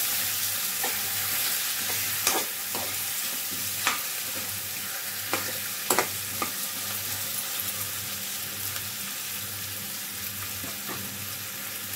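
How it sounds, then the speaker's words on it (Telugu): Brinjal pieces frying in a pan as a curry are stirred: a steady close sizzle fills the whole stretch, broken by a handful of sharp spoon clinks and scrapes against the pan, with no talking. "వంకాయలు అన్నీ వేసేసుకొని ఒకసారి మిక్స్ చేస్తున్నాను."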